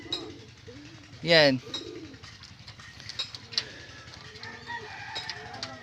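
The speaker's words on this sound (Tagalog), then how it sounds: "So tignan nyo naman, dumadami na naman yung ating mga young bird." Young racing pigeons coo softly in a loft, with a brief loud wing-flap or squawk early on and faint bird calls scattered throughout while someone talks quietly.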